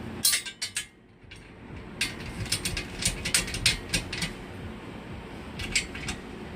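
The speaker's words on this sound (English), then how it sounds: "If you don't hear my ratchet turning, it's because it's not a ratchet, it's a clutch drive." A clutch drive tool turns bolts while an engine stand is being assembled, giving quick bursts of small clicking and metallic ticking in short irregular runs, close and fairly quiet, no voices.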